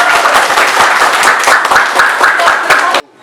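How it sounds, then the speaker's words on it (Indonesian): Loud, dense applause from a classroom audience after a student group's mathematics presentation, steady clapping for about three seconds before cutting off abruptly. "kasih tepuk tangan."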